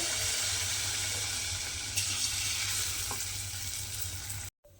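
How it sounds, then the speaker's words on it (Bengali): Semolina pitha batter frying in hot oil produces a dense, steady sizzle close by, with a brief clink partway through before cutting off abruptly near the end, with no voices. "এইভাবে কিন্তু সমস্ত পিঠেগুলো আমি এই একইভাবে ভেজে নেব"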